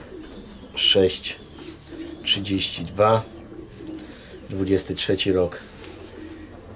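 Soft, low cooing from a racing pigeon cock of the M.T.M. Pałka line, held in the hand, rising in short phrases beneath someone talking nearby.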